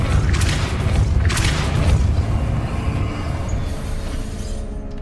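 The Depulso force spell in Hogwarts Legacy sets off a loud, rumbling boom. It starts with a couple of heavy bursts and then rolls on as a dense, sustained roar for several seconds.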